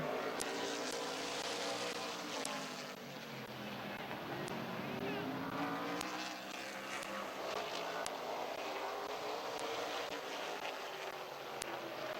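Race cars roar together at the green flag at Midvale Speedway, a dense, loud, sustained engine wash with rising and falling pitch sweeps as cars pass, a public-address voice audible over the din.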